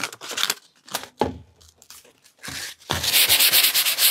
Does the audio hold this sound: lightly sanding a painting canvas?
yes